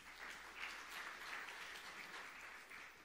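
A church congregation applauds in a sustained burst of clapping, a dense crackle heard from some distance and fairly faint, steady across the few seconds.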